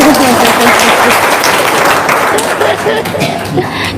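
Studio audience applause during an Indonesian talk show, a dense, steady wash of clapping that holds loud for about four seconds, with voices and laughter mixed in underneath.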